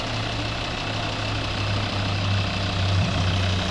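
A 2011 Volvo V60's 2.0-litre D3 diesel engine idles steadily and smoothly, a low constant rumble heard up close with no voices.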